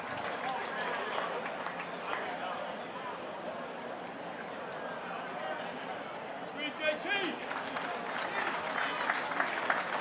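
Steady applause and cheering from a large outdoor golf tournament crowd at the RBC Heritage, continuous and moderately distant, with a voice talking underneath.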